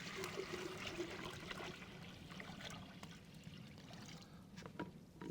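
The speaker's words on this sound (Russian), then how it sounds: "Наливаем холодную воду." Cold water pours steadily into a pot for shurpa, a soft, continuous trickling splash at close range that runs quietly throughout with no talking.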